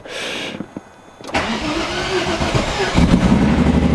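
A car engine cranks and catches after a brief quiet, rising into a steady, loud idle that settles in close by.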